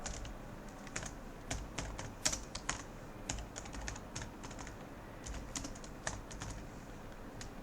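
Quiet, irregular keystrokes on a computer keyboard tap away steadily, with occasional sharper key hits punctuating a soft background hiss.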